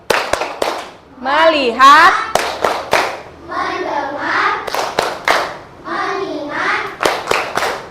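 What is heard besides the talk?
children's rhythmic focus clapping (tepuk fokus)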